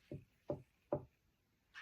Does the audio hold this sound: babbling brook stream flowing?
no